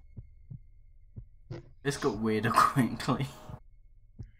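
A heartbeat sound effect during a Curse of Strahd tabletop session: slow, regular, low thumps keep pulsing steadily, while voices talk over the middle stretch.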